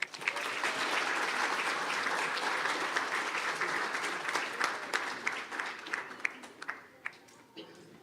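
A room full of people at a school board meeting applauds students who placed at state. The clapping stays thick and sustained, then thins into scattered individual claps near the end.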